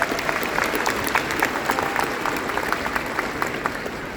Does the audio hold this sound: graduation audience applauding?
yes